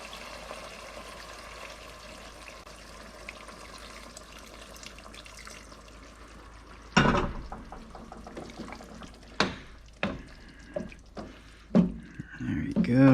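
Broth poured into a cooking pot for Filipino binagoong pork, a quiet room tone at first, then several short liquid pours and splashes in bursts, close and fairly loud.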